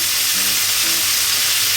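Pork slices rolled around tomato and cheese fry in a pan over strong medium heat, giving a loud, steady, close sizzle with no break and no talking.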